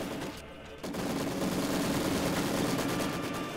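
Machine gun fire in the video game Company of Heroes 2, a dense, continuous roar of overlapping automatic bursts filling the mix, loud and steady after a brief dip.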